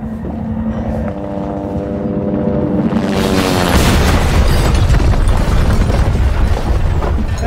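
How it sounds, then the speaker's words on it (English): A helicopter crashes and explodes in the Resident Evil 2 remake video game, with a low droning rumble and rising whine building into a loud, sustained roaring blast with crackling debris that fills the rest of the stretch. "Helicopter just crashed into us."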